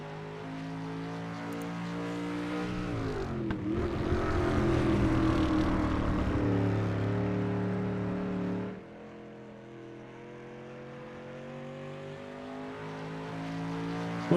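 Race car engines in iRacing roar around Williams Grove Speedway, a dirt track with long straightaways and tight corners, during Street Stock qualifying; a steady loud drone swells and dips as a car laps, with no talk.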